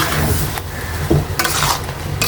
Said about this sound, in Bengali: লবণ দিয়ে আমি ভালোভাবে আবারও মিশিয়ে নিচ্ছি